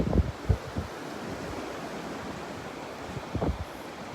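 Steady wind and surf along Vanderbilt Beach, a continuous broad rushing wash with a few low thumps of wind buffeting the microphone at the start and near the end.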